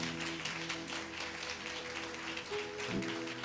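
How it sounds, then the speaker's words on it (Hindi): A church congregation clapping during a Hindi sermon, a steady, fairly faint wash of applause with musical tones underneath, continuing evenly for a few seconds. "आपकी ताली छोटी है।"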